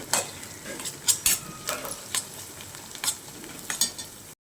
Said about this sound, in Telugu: అల్లం వెల్లుల్లిపాయ పేస్ట్ పచ్చివాసన పోయే వరకు వేయించుకుందామండి.